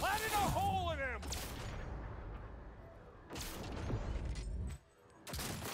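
Pistol gunshots in a Cyberpunk 2077 or Dragon's Dogma video game session, a few sharp bangs standing out over a busy game mix with occasional voice.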